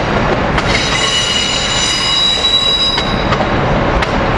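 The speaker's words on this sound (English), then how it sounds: "Here we got Keystone train 661 coming in from Harrisburg to Philadelphia" Amtrak Keystone train 661 from Harrisburg, led by AEM7 locomotive 905, pulls into Philadelphia's 30th Street station: a loud, steady rolling rumble with high wheel squeal and a few sharp rail clicks, no voices.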